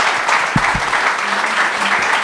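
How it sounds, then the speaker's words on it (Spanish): Audience applause in a lecture hall greeting a speaker at a talk on climate change, a dense steady wash of many hands clapping at even loudness, with a couple of low thumps near the start and no talk. "con un fuerte aplauso le cedo la palabra."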